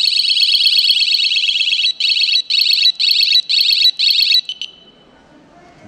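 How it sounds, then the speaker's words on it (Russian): A loud, piercing 120 dB electronic bicycle alarm siren (OB-072) blares in rapid pulsing bursts, stutters a few times, then cuts off, leaving quiet rustling. "раздаваться очень мощная сирена 120 дБ"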